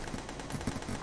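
Rapid gunfire from shooting enemies in a video game, a steady, fairly faint stream of repeated shots running continuously through the moment.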